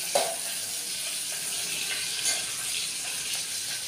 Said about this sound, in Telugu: ఇప్పుడు కొంచెం వేగేంత వరకు ఇలా కలుపుకుందాం.